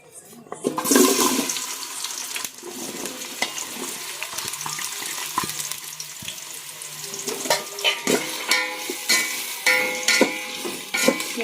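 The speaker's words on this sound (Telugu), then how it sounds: "సరిపడంత ఆయిల్ వేసుకొని ఆనియన్స్ మొత్తం దాంట్లోకి వేసేసుకోవాలి" Onions sizzle and hiss in oil while browning for village-style chicken biryani, a continuous broad crackle with scattered clinks and stirring knocks nearby.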